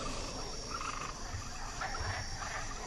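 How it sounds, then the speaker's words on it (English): A dense chorus of frogs croaks continuously through a steady wash of background noise, with no voices. "Ask Jehovah to take away the frogs."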